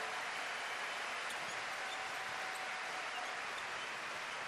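Steady applause from a snooker crowd at the 2017 World Championship, a continuous even patter of clapping heard from a distance at moderate level throughout.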